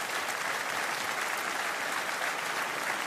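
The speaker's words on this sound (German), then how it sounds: "das ist nochmal dein Applaus" An audience at a TV entertainment show breaks into applause, a steady, full burst of clapping with no voices over it.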